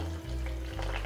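Fish head, rubbed with turmeric and salt, dropped into hot oil in a pan, giving a steady close sizzle and crackle for about a second, with a low hum running underneath.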